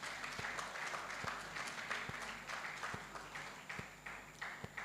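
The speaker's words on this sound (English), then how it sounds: "Please, can we give a round of applause to this man?" A conference audience at a tech event claps steadily for a former Nigerian president, a dense rolling applause with scattered sharper claps throughout, moderately loud and sustained.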